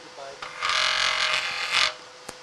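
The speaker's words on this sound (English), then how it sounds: "I use my spindle roughing gouge like" A spindle roughing gouge cuts spinning wood on a lathe during a woodturning club demo, giving a steady hissing, scraping whir for about a second and a half, fairly quiet and close.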